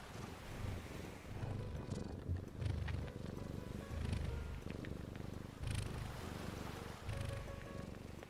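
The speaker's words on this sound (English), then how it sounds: "Hold on, would you like some cat ASMR?" A cat with a runny nose purrs close by in a steady, continuous low rumble, its rhythm pulsing roughly every half second with faint breathy snuffles, and no one talks.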